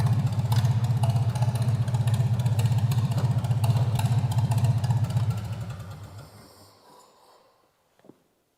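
A Farmall M tractor engine runs with a steady, loud low chugging idle, then shuts down and fades away over a couple of seconds, followed by a short faint clank in the quiet.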